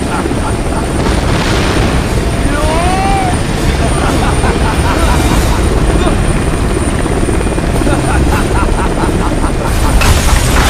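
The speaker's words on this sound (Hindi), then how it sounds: "जल्दी हेलीकॉप्टर में आ जाओ, बिल्डिंग अब गिरने वाली है।" Helicopter rotor thudding loudly and steadily throughout, close by, with rhythmic blade chop and engine whine under a dense wash of noise, as a building is about to collapse; a few faint voices are buried in it.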